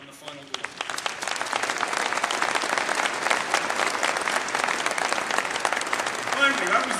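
Audience applause at a political speech, a dense wash of clapping filling the room and sustained at steady loudness after a brief spoken lead-in.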